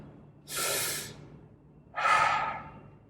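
Two slow, deep breaths, each a long airy rush of air with a pause between them, close and fairly soft, with no speech.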